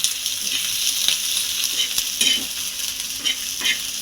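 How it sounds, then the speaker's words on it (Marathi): Onions frying and being stirred in a pan for a fish curry: a constant close sizzle broken by several quick scraping stirs of a spoon against the pan. "आपला कांदा भाजत आलाय आज आपण याला दहा मिनिटं भाजून घेऊ"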